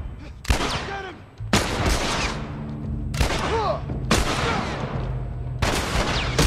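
Repeated bursts of gunfire in The Last of Us, about five loud, sharp volleys spaced roughly a second apart, each with a booming tail, over a low rumbling game backdrop.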